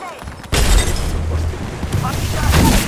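A grenade detonates in the battle royale game Apex Legends, a sudden loud boom with a rumbling low tail that carries on under continuing game noise and chatter.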